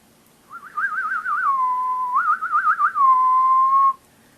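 A boy whistles a short trilling tune: warbling, wavering notes followed by a long held tone, repeated twice, close and clear against silence.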